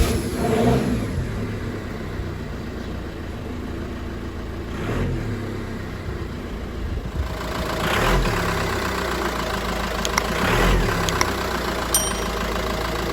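A Jeep Patriot with a 2.0 TDI VW/Audi diesel engine and a newly installed turbo cranks and runs, its low engine rumble rising and falling through a few revs, close and steady with no talk.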